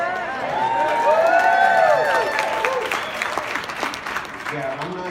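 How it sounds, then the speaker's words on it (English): A conference audience at a scientific meeting breaks into a burst of applause, dense clapping and a few whoops swelling then fading, with voices murmuring underneath. "I'm not used to people clapping"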